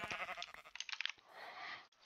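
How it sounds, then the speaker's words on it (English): Sheep bleat repeatedly in a blocky survival video game, a cluster of short, nasal baa calls overlapping in quick succession, then a softer drawn-out bleat before fading near the end. "It's nice that I just spawned next to like a lot of sheep."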